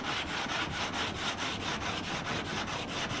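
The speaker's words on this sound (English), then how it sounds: "Using some 180 grit. First time I've sanded this stuff," Hand-sanding car paint with 180 grit sandpaper, a steady rhythmic scratching of back-and-forth strokes at close range, continuous and loud with no talking.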